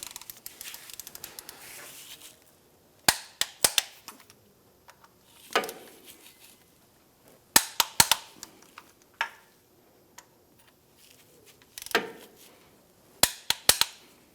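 Torque wrench clicking as transmission mount bolts on a 2007-2013 Acura MDX are tightened to spec: sharp, close metallic clicks arriving in small clusters separated by quiet pauses, no talk.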